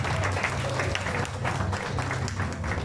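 An audience at a youth mariachi birthday performance applauds, a dense continuous clapping that fills the whole moment at close range.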